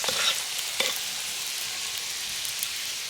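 Paratha frying in a pan, a steady close sizzle of oil with a few brief louder crackles near the start, continuous and alone.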